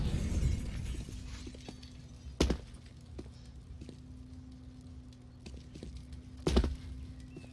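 An incendiary grenade lands in the CS:GO game, with sharp glass shattering bursts twice over a low crackling fire rumble and a faint steady hum, no talking.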